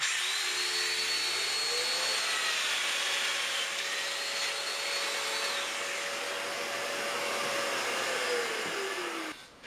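A Festool Domino joiner drills mortises into the ends of wooden drawer parts, its motor whining steadily at high pitch as the cutter plunges and withdraws, then shutting off abruptly at the end.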